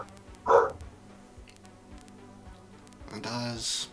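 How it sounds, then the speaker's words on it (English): Dog barking at a distance, one sharp bark followed by a few rougher barks and yips near the end, heard under quiet room tone and faint voices. "doesn't take long before you can hear the sound of barking"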